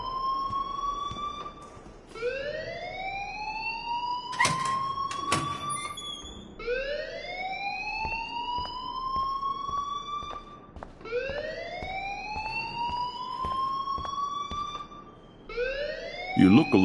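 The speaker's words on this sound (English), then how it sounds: "please turn off that alarm since that's your job" An alarm in the video game Life Is Strange sounds in repeating rising siren-like sweeps about every four seconds, with a few sharp clicks between them and no talk.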